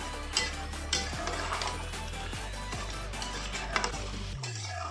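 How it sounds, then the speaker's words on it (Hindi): Grated carrot and milk mixture cooking down for gajar barfi, stirred with a utensil that scrapes and taps against the pan in a loose rhythm over a low steady simmer. "अब मैं इसे कंटिन्यू इसी तरह से 5 से 6 मिनट पकाएंगे ताकि हमारा दूध अच्छी तरह से सूख जाए"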